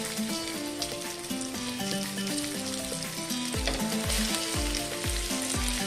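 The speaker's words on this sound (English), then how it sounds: "So into this I'll be adding the fishes." Rava-coated kingfish fries in hot oil in a pan, a continuous bright sizzle running under loud, rhythmic background music with a thumping bass line.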